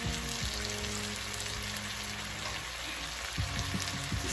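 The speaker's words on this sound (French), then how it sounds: "Je vais ajouter encore de l'eau pour la deuxième fois." Water poured into a pan of oxtail sauce hisses and sizzles loudly, a dense steady frying crackle that keeps going throughout, with some clinks and scrapes near the end.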